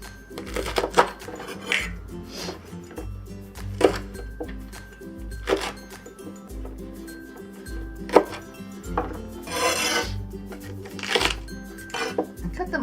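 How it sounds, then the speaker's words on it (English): Knife trimming and cutting sweet chili peppers on a cutting board, with repeated sharp chops and knocks against the board in an irregular rhythm, close and clear, alongside clinks of kitchenware. "next let's trim and cut the sweet chilies"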